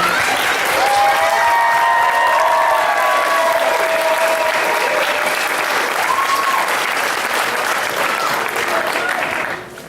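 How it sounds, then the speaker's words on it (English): Audience applause at a Pilipino cultural night, sustained and loud for about ten seconds, with cheers and whistles over the clapping as performers gather at the front of the stage. "Come on, applause, please."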